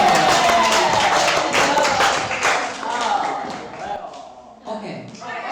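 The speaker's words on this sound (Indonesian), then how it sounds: "Dan sekali lagi terima kasih untuk Leo dan beri tepuk tangan untuk Leo" Audience clapping at a school end-of-level assessment presentation, a burst of claps under a murmuring crowd and nearby voices that fades toward the end.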